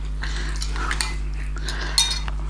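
A spoon clinks and scrapes against a bowl while turkey wing marinade is stirred, with irregular metallic taps and one sharper knock, close by and without talk.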